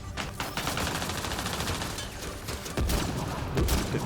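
Gunfire in Mass Effect Andromeda during combat, a steady rapid stream of shots forming a dense, loud fusillade, with heavier thumps toward the end.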